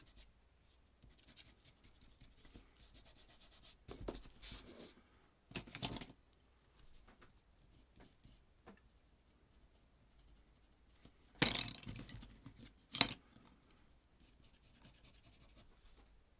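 A white pencil scratches across paper in short, faint strokes with quiet gaps, then a few louder scraping strokes later on, close and alone with no talking.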